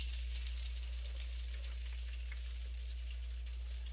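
Country-fried venison sizzles in hot grease, a dense, steady frying hiss that stays constant and close with faint crackles, with a low hum beneath and no voices.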